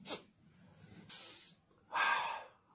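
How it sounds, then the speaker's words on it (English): A few sharp nasal sniffs and breaths, close and fairly quiet, spaced out with short silences between them. "I am sniffing."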